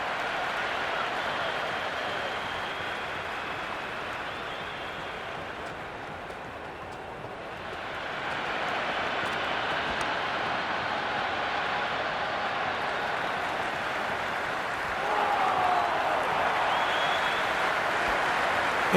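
A large cricket stadium crowd roars and applauds after a shot, a broad sustained wash of cheering that dips briefly midway and then swells again, loud and continuous.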